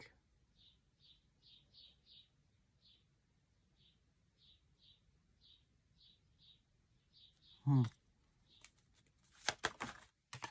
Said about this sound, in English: This bird's chirping.